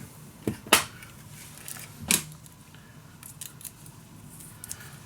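Adhesive tape is applied to a 1.5 section of a mini album held in a storage box, giving two sharp crisp snaps or tears over a quiet, faintly rustling background.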